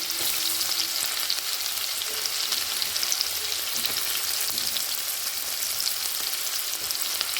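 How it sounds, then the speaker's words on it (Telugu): Onion pieces fry in a hot pan with a continuous bright crackling sizzle, steady and close, occasionally stirred, with no talking. "కొంచెం దోరగా వచ్చేటట్టు వేసుకోండి."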